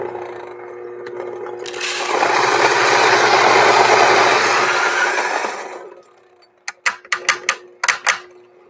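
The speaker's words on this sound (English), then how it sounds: "I've got the grinder here. I'm gonna leave it on this medium setting we had yesterday." An electric coffee grinder on a medium-coarse setting whirs loudly through beans for a few seconds, swelling and then spinning down. A burst of sharp clicks and taps follows.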